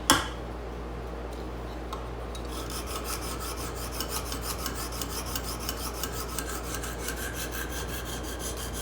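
A file rasps along a knife edge to raise a burr in a series of quick, even strokes, close and crisp, after a brief knock at the start, with no voices.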